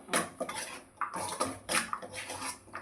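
Makhana (fox nuts) being tossed and mixed through jaggery in a pan gives bursts of rattling, scraping clatter from a spoon against metal, in several uneven strokes with short pauses between.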